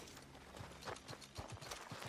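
A horse's hooves clip-clop in an irregular walking rhythm in the video game Red Dead Redemption 2, moderately close, with faint background game ambience and no talk.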